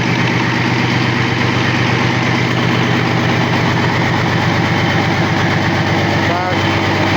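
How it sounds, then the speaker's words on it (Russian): Heavy Caterpillar C13 diesel engine idling steadily after a major overhaul, a loud, continuous low rumble with rhythmic knocking pulses throughout, close to the microphone. "Тестируем двигатель C13 Caterpillar после капремонта."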